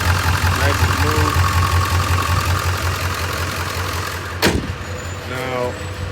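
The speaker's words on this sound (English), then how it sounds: "truck is running, nice and smooth" A 2000 Ford F350 with a 7.3 Powerstroke diesel idles steadily with a deep, even rumble close by, while a person talks over it and a sharp knock sounds partway through.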